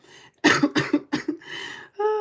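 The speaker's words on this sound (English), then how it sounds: "I'm still sick and doing all this coughing" A sick person gives a burst of several harsh, close coughs in quick succession, ending with a short throat-clearing vocal sound.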